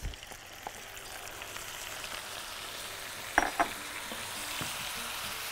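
Akkawi cheese frying in a pan with sautéed ingredients: a steady close sizzle throughout, broken by a couple of sharper stirring scrapes midway.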